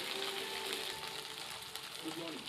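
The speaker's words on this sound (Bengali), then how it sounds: "তেল দিয়ে কিছুক্ষণ নাড়িয়ে নেবেন, সুন্দর করে নাড়িয়ে নেবেন" Dried shrimp being stirred in hot oil in a pan gives a soft, steady sizzle with occasional scraping, fairly quiet and continuous.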